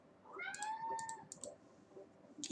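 A house cat gives one clear, rising-and-falling meow close by, followed by light clicking of a computer keyboard in a quiet room, with no talk.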